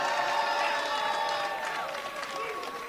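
A wrestling crowd at a live match between Damian Drake and Funny Bone cheers and claps, a loud sustained roar with whistling tones that fades slightly toward the end.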